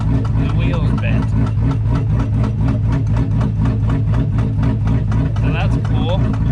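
Supercharged GMC Sierra pickup engine running in gear with the truck propped on a floor jack, a steady loud droning rumble with rapid regular pulsing throughout, under talking.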